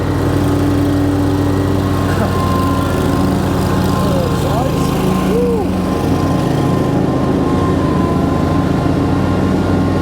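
A landscaping mower engine drones loudly and steadily at full throttle, close by and unbroken throughout, with a faint voice under the noise.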